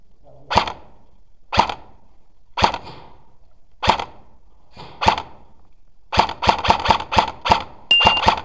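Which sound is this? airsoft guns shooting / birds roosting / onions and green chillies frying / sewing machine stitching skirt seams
airsoft guns shooting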